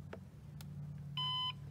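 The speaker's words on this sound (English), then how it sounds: "You hear that one beep." A Nemtek LCD electric fence energiser programmer gives a single clear electronic beep lasting about a third of a second. It is close and distinct against a low steady hum, with a few faint clicks just before.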